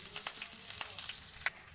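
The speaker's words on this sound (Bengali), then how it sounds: "কুচিয়ে রাখা পেঁয়াজ আর লঙ্কা দিয়ে দিলাম" Chopped onion and green chillies frying in hot oil with cumin seeds in a wok, a steady close sizzle with a few sharp spattering pops.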